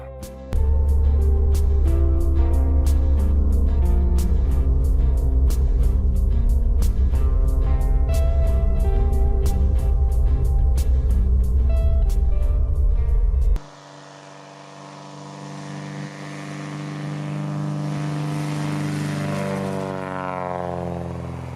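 Propeller engine of a Cessna 182P aircraft during a ground RPM check, a loud steady drone with dense harmonics that cuts off abruptly, then a quieter whirring engine tone rises and shifts pitch.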